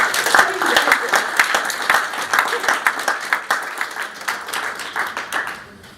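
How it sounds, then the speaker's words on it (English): Audience applause for a speaker at a ceremony, a dense patter of many hands clapping that holds steady and then thins and fades out toward the end. "Ladies and gentlemen, let's give a round of applause to Mr. Ulai"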